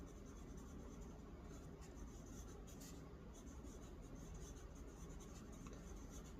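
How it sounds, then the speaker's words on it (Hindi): Hand writing a name on paper, soft steady scratching and rubbing of a pen or pencil, close and quiet, with no talk over it. "एक मिनट, मैं अपना नाम लिख लेता हूँ।"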